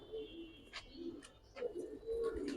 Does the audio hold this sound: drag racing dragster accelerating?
no